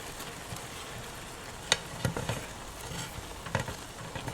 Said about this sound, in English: Cook it like this for maybe a couple of minutes until you see it boil. It's sizzling now.